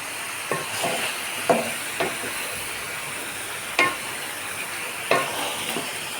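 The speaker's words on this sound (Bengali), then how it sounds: "সেটা আমি তেলের সাথে ভালোভাবে মিশিয়ে নিব।" Meat is stirred into hot oil in a pot for kachchi biryani, a steady sizzle broken by a few sharp scrapes and clacks of the spoon against the pot.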